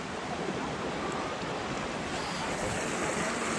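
River water near the Kolli Hills waterfall rushes in a constant, loud, broadband roar with no pauses or voices.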